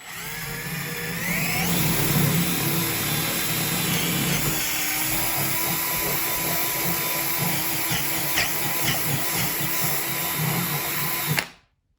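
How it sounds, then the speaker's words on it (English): A power drill whirs steadily through the wooden base of a model railroad layout for about eleven seconds, close and loud, its pitch dipping under load before cutting off abruptly. "this is where I want to drill the hole through the layout"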